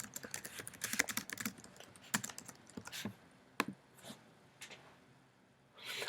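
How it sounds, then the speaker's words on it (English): Quiet keystrokes on a computer keyboard come in irregular bursts of clicks, some louder taps standing out, with pauses between runs of typing. "I'm typing right now, Stephanie."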